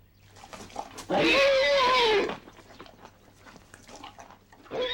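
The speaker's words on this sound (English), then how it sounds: "This whinny is the dinner bell." One loud, shrill zebra whinny lasting about a second, with a wavering falling pitch, between stretches of quiet rustling and shuffling.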